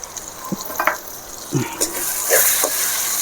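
Onion, tomato, chili powder and coriander powder being sautéed for chicken kuruma make a close, lively sizzle broken by several scraping stirs and light clinks of a spoon against the pan, with no one speaking.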